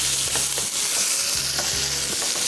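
Chicken and vegetables fry in a spicy chili sauce, with a steady close sizzle and repeated scraping strokes of a spoon stirring through the pan.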